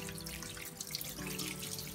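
Tap water runs steadily into a sink while raw meat is washed beneath it, a close, continuous splashing hiss with no talking.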